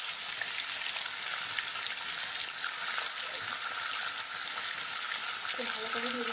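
Fish heads crackle and hiss in hot oil in a wok as they fry for muri ghonto. The sizzle is dense and continuous at close range, and a brief faint voice comes near the end.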